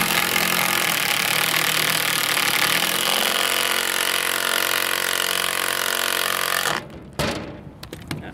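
A battery-powered tool drives screws into a new trailer board, giving a continuous loud whirring drone that shifts pitch midway, then cuts out into a few brief clunks close by.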